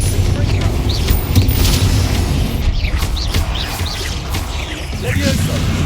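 Explosive Confringo spell blasts in Hogwarts Legacy combat, a series of booming impacts and crackling bursts over continuous loud battle noise, with whooshing spell sounds and a voice briefly heard amid the chaos.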